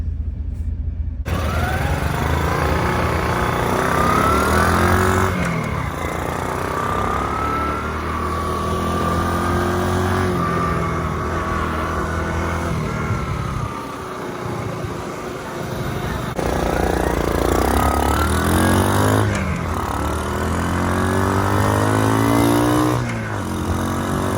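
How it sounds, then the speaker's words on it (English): An RV engine drones steadily while driving on the road, a loud, close, continuous hum that rises and falls as it shifts gears and accelerates, with no voices over it. "this is the first time I've ever driven this RV"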